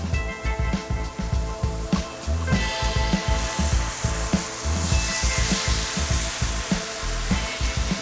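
White wine sizzles hard in a paella pan of rice, a loud, steady frying hiss broken by irregular crackles and pops, with no talking over it.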